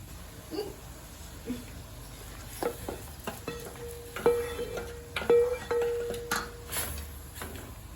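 Ghee-fried cassava being stirred into boiling milk for cassava payasam: scattered soft scrapes and light clinks from the pot, a few steady tonal hums, moderately close and fairly quiet, with no talking.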